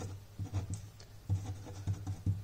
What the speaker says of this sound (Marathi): सो इथं पुढे लिहितो मी